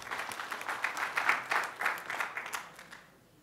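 Audience applause after a talk at a Selenium testing conference: a burst of many hands clapping with uneven peaks, building then tapering off and fading to near silence at the end.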